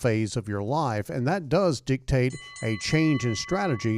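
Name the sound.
bell signalling the end of the show's time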